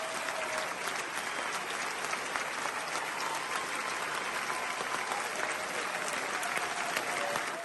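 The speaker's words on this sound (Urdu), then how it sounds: "ممبران کی بڑی تعداد نے پرجوش تالیوں کی گونج میں استقبال کیا" Ministers and members of parliament give warm, sustained applause as the British prime minister enters a hall, a dense even roar of many hands clapping that carries on steadily without talk over it.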